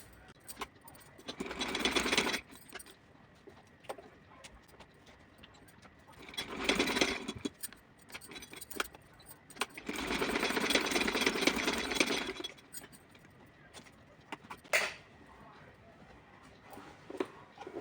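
A sewing machine stitches a small choli and dress for a Laddu Gopal doll in three separate bursts of rapid whirring, with quieter gaps and faint handling sounds between them.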